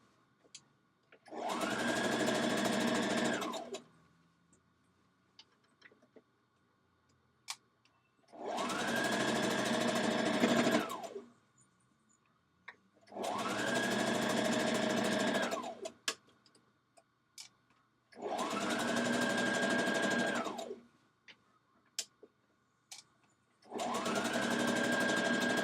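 A sewing machine hems a dress in five steady, even bursts of fast stitching, each lasting about two seconds, separated by quiet pauses with faint handling clicks.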